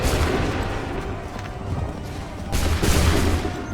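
Musket volleys in Assassin's Creed III, dense crackling bursts of many muskets firing together, loud and rumbling, with a quieter lull between two heavy volleys.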